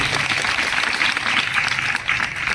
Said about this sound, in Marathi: आमच्या युवा मंडळीसाठी जोरदार टाळ्यांचा गजर आपण करूया